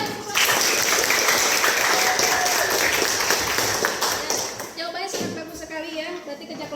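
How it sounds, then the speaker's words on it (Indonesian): A classroom of students applauds a group's answer, several seconds of busy, fairly loud clapping that fades toward the end as a voice begins talking. "berikan tepuk tangannya"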